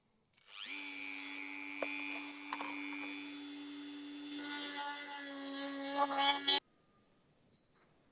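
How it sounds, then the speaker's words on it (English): A Dremel rotary tool whines at a steady high pitch while widening holes to fit sockets during a truck upgrade, its tone wavering as it bites into the material, then it stops abruptly. "get the Dremel out again and make them a little bit wider to fit these sockets"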